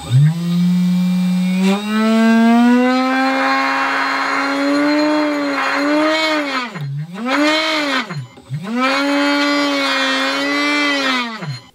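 The spinning wheel of a playing card machine gun whines at full speed with a loud motor-like tone that climbs, then dips and recovers twice as the speed sags and returns, with no voices over it.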